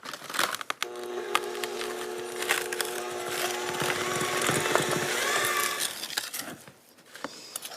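A stand mixer creams sugar and fat in a bowl, its motor humming steadily with a rattling, scraping churn for several seconds between clattery handling noises at the start and end.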